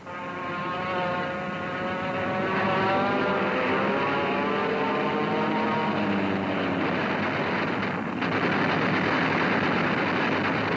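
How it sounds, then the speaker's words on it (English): German Focke-Wulf 190 fighter planes flying, a loud steady propeller engine roar with rising and falling pitch, sustained throughout without talk. "When the ack stopped, the fighter planes took over."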